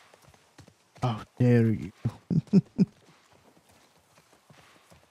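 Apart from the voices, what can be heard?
horse hooves clip-clopping in The Last of Us Part 1 video game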